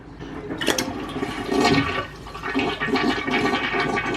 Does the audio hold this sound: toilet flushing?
yes